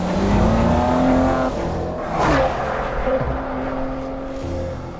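A Maserati Ghibli's Ferrari-built twin-turbo V6 revs loudly nearby, its pitch rising and falling through a few swells, with a brief squeal-like burst in the middle.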